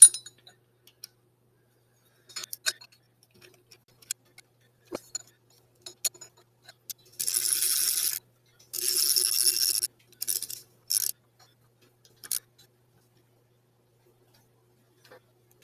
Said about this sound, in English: 3/8 inch socket with an extension on here to help me reach this inside bolt